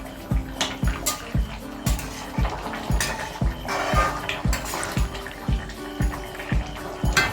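Jackfruit curry stirred in a pot on a gas stove, a ladle scraping and knocking in a steady rhythm of about two strokes per second, close and clear, with faint bubbling beneath and no talking.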